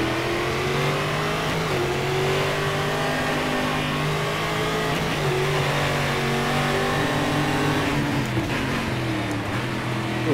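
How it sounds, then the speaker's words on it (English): A race car engine in the StockCar 2013 driving sim revs loudly and continuously with a steady, sustained roar, its pitch dropping through a downshift near the end; no one speaks. "cool downshifting sound"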